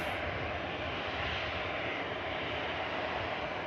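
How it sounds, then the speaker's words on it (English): A Ryanair jet taxis at Manchester Airport, producing a faint, steady, broad engine rumble that stays level from start to finish and sounds distant. "Ryanair taking the intersection just before the Saudia gets out"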